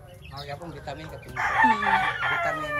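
A rooster crows loudly among clucking chickens on a Philippine farm where roosters are kept tied up, with softer fowl calls before the long crow rises and trails off.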